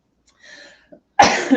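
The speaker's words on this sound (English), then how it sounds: "You see the coughing?" A person coughs during a hands-on abdominal fascia massage, a loud burst of coughing that starts abruptly near the end after a quiet stretch with faint murmurs.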